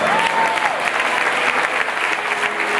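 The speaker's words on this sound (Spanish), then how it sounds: "¡Aplauda al Señor," A church congregation at a Spanish-language evangelistic campaign service breaks into loud, sustained applause, a thick continuous wash of clapping with a faint tone briefly rising over it near the start.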